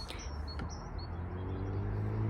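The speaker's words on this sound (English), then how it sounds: "That was a weird bird call." An unusual bird call, a few thin high chirps and whistles close by over a low steady background hum, with no talking.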